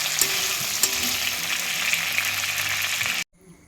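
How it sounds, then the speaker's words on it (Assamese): Meat fries in hot oil in a pan in a home kitchen, a loud, continuous close-up sizzle with faint stirring scrapes that cuts off abruptly near the end. "মাংসখিনি হৈ গ'ল, ৰঙা হৈ গ'ল, এইখিনি ফ্ৰাই কৰা হ'ল।"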